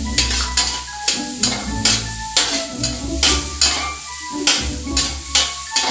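White onion sautés in a pan with a continuous sizzle, broken by rhythmic scraping strokes of a stirring utensil about twice a second, loud and close with no talk.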